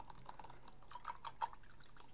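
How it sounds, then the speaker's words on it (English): A paintbrush swished and tapped in a water jar while rinsing off yellow paint, soft close splashes and light clinks in a quiet room. "I'm just going to wash off my brush in the water"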